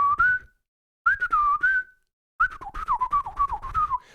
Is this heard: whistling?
yes